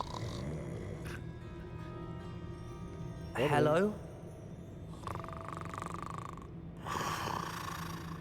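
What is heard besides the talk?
goblin snoring in video game Hogwarts Legacy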